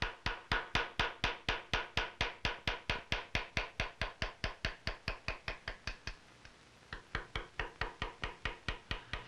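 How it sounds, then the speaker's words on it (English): Steel round bottom chisel struck repeatedly by a small hammer while cutting lobes and leaves in gunsmith engraving, a long steady series of sharp close taps with a brief pause before the tapping resumes. "A round bottom chisel is used for cutting lobes and leaves."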